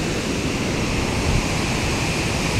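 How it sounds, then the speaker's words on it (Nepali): The Phutphute waterfall along a Nepali trekking trail gives off a steady, dense rushing roar of falling water, loud and unbroken throughout. "यो फुतफुते झरनाबाट झरना झरिरहेछ"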